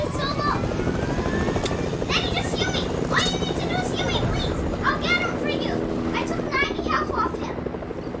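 A helicopter in the Fortnite video game whirs steadily under game effects, with chirpy tones and bursts cutting in while a player talks over the scene.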